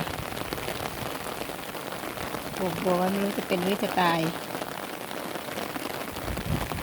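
Steady rain patters down across the whole stretch, with someone speaking briefly in the middle over the constant hiss of falling drops.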